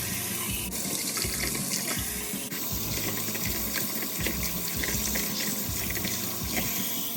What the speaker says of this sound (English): when you're washing your produce, just some tap water